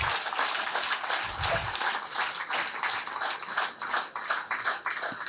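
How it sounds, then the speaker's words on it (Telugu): Loud, sustained clapping from a youth audience at a spiritual lecture gathering, busy and continuous with slight rises and dips in intensity. "ఓకే, గట్టిగా చప్పట్లు కొడదాం"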